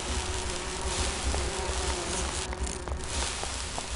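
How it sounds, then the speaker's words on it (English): Bees in the video game Grim Fandango drone in a dense, continuous buzz that fills the whole stretch at an even level. "These bees don't seem too busy."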